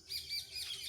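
Parrots perched in coconut trees give a short burst of bright, high chirping calls, fairly clear against a quiet outdoor background.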